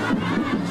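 Supporters of an incumbent city mayor filling Plaza Rizal in Caloocan at a campaign event, a loud, continuous roar of massed shouting and cheering in a short burst.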